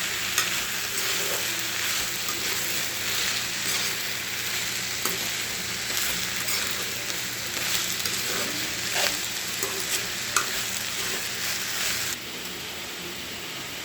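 Prawn kurma with ground coconut, pepper and fennel sizzles steadily in a pan while being stirred, a dense, loud, continuous frying hiss with occasional scraping clicks from the spoon, lasting throughout without talk.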